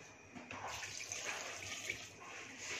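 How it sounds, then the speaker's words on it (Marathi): Water is poured into a pot of drumstick soup with coriander stems, ginger, cumin, garlic, pepper, turmeric and salt, heard as a soft, steady splashing stream that runs close by for the whole stretch. "यामध्ये पाणी घालूया"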